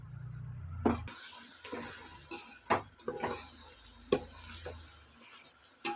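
Fish pieces are mixed by hand with masala, chili powder and salt in a bowl: quiet, wet squelching and rubbing with a few sharp clinks against the vessel, close and unhurried.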